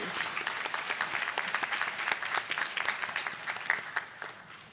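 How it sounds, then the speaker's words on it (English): Audience applause at a fall college commencement ceremony in a conference center, steady dense clapping that holds for several seconds at moderate distance, with faint voices mixed in. "let's give ourselves a round of applause"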